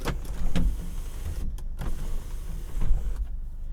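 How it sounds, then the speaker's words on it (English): An electric motor hums steadily as the sunroof of a 2018 Honda Fit EX-L slides open, with a few soft clunks and clicks from the mechanism along the way. "Also up here, you have a sunroof."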